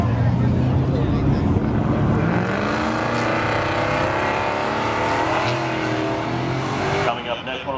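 A Pontiac launches down the drag strip at Seekonk Speedway during spectator drags, its engine roaring loud and sustained with rising revs through the run, an announcer talking over it throughout.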